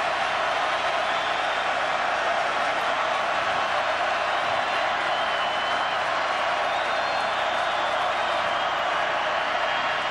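A football stadium crowd at a 2004 Miami vs North Carolina State game roars steadily, a dense sustained wall of cheering and noise that holds at a constant loud level throughout.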